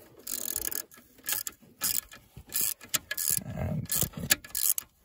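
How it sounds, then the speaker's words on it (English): A bolt on an ABS sensor of a Citroen XM is tightened, producing bursts of rapid ratcheting clicks and metallic turning noises in uneven spurts, close and moderately loud, with a brief spoken word. "now the bolt is going, and now start tightening it"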